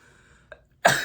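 A single sudden sneeze from a person bursts out loudly near the end after a faint short intake of breath, close and alone with no talking.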